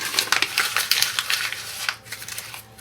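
Glassine paper, Tim Holtz kraft, being crinkled and crushed by hand: a dense run of close crackling rustles for about two seconds, then thinning to a few softer crackles.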